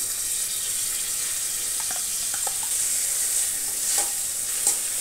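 A spoon stirs white chicken curry with cashew paste and whisked curd in a pan over steady, close sizzling, with a few soft scrapes and clicks midway and no voices.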